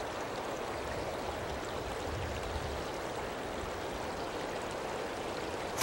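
A mountain river flowing steadily, a dense continuous rush and gurgle of water that stays even and fairly loud throughout with no voices.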